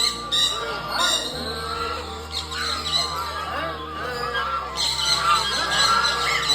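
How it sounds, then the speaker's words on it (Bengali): Geese calling at Kathgola garden, loud repeated squawks and honks from nearby birds over a low hum and background bird noise. "আর এদিকে আছে রাজহাঁস"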